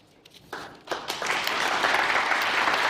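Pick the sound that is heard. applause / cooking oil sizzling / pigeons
applause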